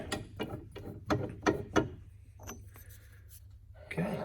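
A bearing is pressed into a fan belt idler pulley on a 1995 Prevost coach, giving a series of faint, sharp mechanical clicks and ratcheting knocks in a quiet workshop.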